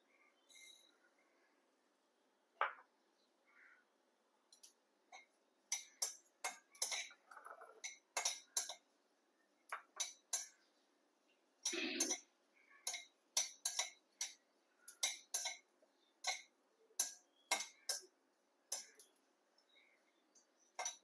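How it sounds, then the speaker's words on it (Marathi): Fennel seeds dry-roasting in a pan give a sparse, irregular run of small ticks, clinks and scrapes as they are stirred, quiet and close with short gaps between bursts. "अशी ही बडीशेप मी भाजून घेते."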